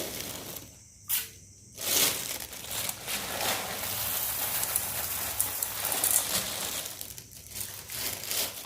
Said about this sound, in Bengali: এই জন্য তেলের প্যাকেটটা কাটতে হবে